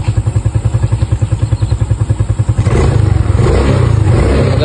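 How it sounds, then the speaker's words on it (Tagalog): A motorcycle offered for sale idles with a rapid, steady thumping putter close by, then the engine revs up into a louder, smoother roar for the last two seconds. "meron po akong binebentang motor."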